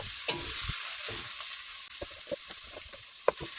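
Chopped onions with cardamom frying in hot oil: a steady close hiss of sizzling, broken by soft scraping stir strokes against the pan.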